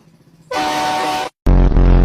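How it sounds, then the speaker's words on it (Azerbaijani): A car horn blares in traffic jam conditions, one long loud honk followed after a brief gap by another harsh blast, close by. "Nə siqnal verirsən?"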